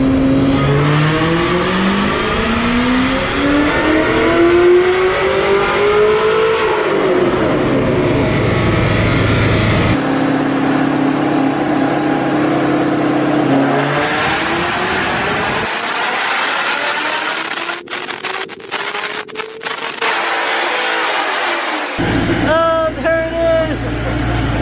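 Modded 1,200hp wide body Shelby GT500 revving hard on a dyno, loud rising and falling engine sweeps through several pulls, the roar cutting out between runs, with voices talking over it.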